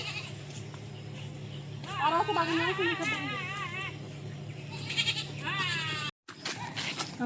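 Goats bleat in the Sundarbans in wavering, quavering calls, first one longer bout, then another a few seconds later, while people talk nearby.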